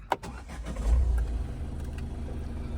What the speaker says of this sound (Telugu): స్టార్ట్ అయింది బండి